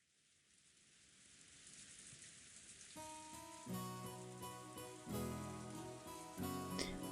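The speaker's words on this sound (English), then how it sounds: "Outside, the rain had started to pour down hard." Heavy rain pours down in a visual novel game, a soft steady hiss that builds gradually, then sits faintly beneath louder tonal music that comes in partway through.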